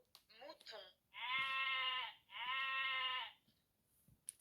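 Two long, loud electronic sheep bleats play one after another from a children's animal sound book, following a short burst of speech from a parent reading to an 11-month-old baby.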